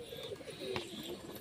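Pigeons coo softly in a loft where hen pigeons and a tumbler-type pigeon are kept, a faint low murmuring call over light background noise.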